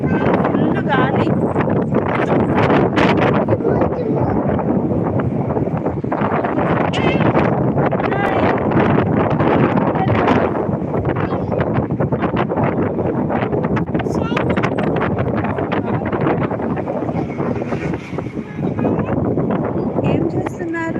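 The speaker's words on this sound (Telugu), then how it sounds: "ఫుల్ గాలి." Strong wind buffeting a microphone outdoors in Jaipur, a loud continuous rumbling roar filling the whole stretch, with a person talking over it.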